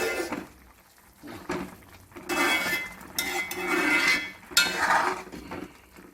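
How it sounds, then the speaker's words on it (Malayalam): A spoon scrapes and clinks against a pan while mutton liver roast is stirred on the stove, with irregular metallic knocks and scrapes that rise and fall close by. "ഇനി നമുക്കൊന്ന് ഇളക്കി കൊടുക്കാം."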